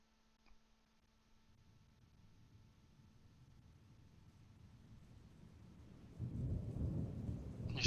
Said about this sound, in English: You start to hear a storm.